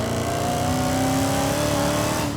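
A supercharged 707-horsepower Dodge Hellcat muscle car engine revs loud and close, its pitch climbing steadily through a sustained, unbroken roar with no voices.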